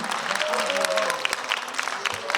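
Audience applause for the teachers at a 2024 youth concert in Mungyeong, dense and steady clapping from a crowd with a faint tonal background throughout.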